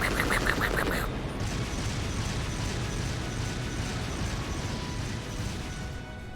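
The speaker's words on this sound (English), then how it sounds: "Airstrike inbound." Airstrike explosions in a video game: a loud blast at the start gives way to a long, steady rumble of debris and clattering mechanical noise, with no talk.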